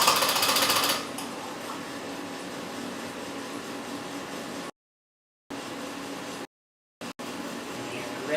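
An electric coffee grinder whirs steadily while grinding just two beans, a loud continuous buzz that drops after a brief harsher start and cuts out in two short gaps near the end.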